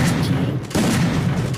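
Gunfire in a shooter video game using an M10 weapon: two loud, booming shots with a short gap between them, close and heavy, filling the whole moment with no talk.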